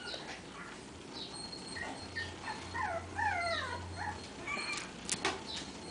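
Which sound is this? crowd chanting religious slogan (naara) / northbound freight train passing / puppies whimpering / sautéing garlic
puppies whimpering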